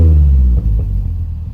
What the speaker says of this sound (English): But my car is burbling now.